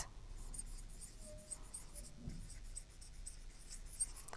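Faint scratchy strokes of writing on a board during a maths lesson, short irregular scrapes set against a quiet room with no speech.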